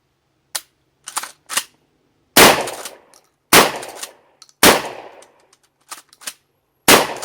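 Kel-Tec KSG pump shotgun firing cheap Federal shells, several loud sharp blasts spaced a second or so apart with racking clicks of the pump between them, close to the microphone.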